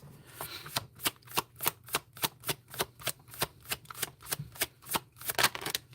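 Guidance cards being shuffled by hand, a quick, regular run of crisp papery slaps, roughly three or four per second, close and steady for several seconds.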